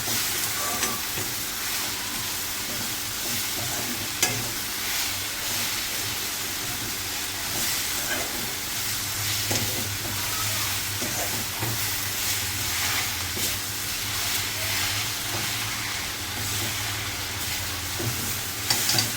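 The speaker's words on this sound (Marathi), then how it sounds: "आता हे टाकायचे काजू, मगजच्या बिया आणि सफेद तीळ. हे पण ह्याच्यात मस्तपैकी भाजून घ्यायचे." Cashews, melon seeds and white sesame seeds roasting in a pan, a continuous hissing crackle with occasional soft stirring and scraping sounds, a low steady hum underneath and no speech.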